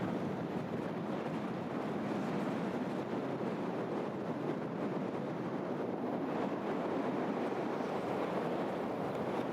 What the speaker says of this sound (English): it's pretty breezy, as you may be able to hear